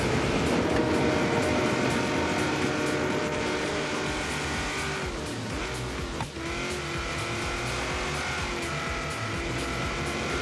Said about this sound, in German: wie schnell er beschleunigt, der Zug, meine ich natürlich